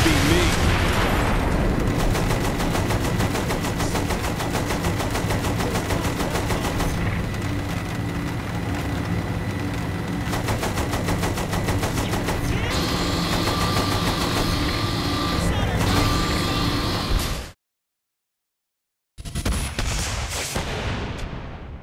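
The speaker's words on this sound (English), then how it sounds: "Use the machine gun then, not the cannon." Continuous rapid automatic machine-gun fire in the video game Saints Row The Third Remastered, with explosions and engine rumble, loud and dense, cutting out abruptly before resuming briefly.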